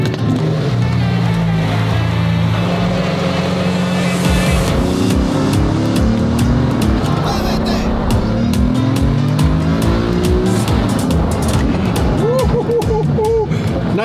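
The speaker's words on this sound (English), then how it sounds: "we're gonna put some fire into the engine of this beautiful V12 from 1982" A 1982 V12 sports car engine runs loud and close throughout, its deep exhaust note climbing through repeated revs and rising pitch sweeps, with no talking over it.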